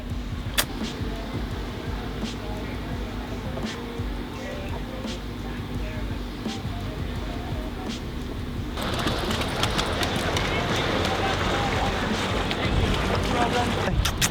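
Steady wind gusts buffet the microphone outdoors aboard an old trawler, with a low background rumble that swells louder partway through.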